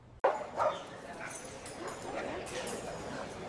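A dog barks in an AI-generated scene: one sharp bark near the start followed by a softer yip, then a steady busy background with faint voices and bustle.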